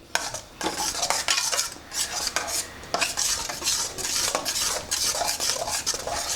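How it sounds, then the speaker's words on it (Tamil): A spoon stirs and scrapes through a beetroot malt mixture with dissolved jaggery in a pan, making continuous close clinking and scraping strokes with no talk. "வெல்லம் எல்லாம் நல்லா கரைஞ்சி எடுத்து இப்போ நல்லா ஒன்றுக்கு ஒன்று நல்லா கலந்து வருது."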